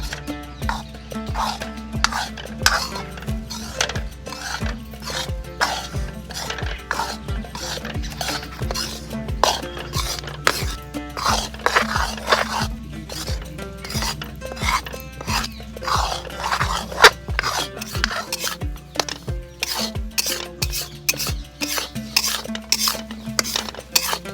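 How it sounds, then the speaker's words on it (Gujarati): A utensil scrapes and taps rhythmically against a metal pan while stirring ghee and flour, steady stirring strokes repeating throughout, near and clear. "આપણે એને થોડી વાર માટે હલાવી દઈશું ઘી અને આ લોટ બધું મિક્સ કરી દેવું"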